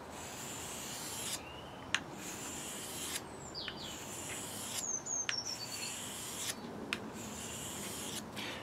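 A carving knife blade is worked on a 1000 grit sharpening stone, giving a continuous soft, gritty rubbing at low level with faint, irregular strokes and a few brief clicks and chirps over quiet room noise.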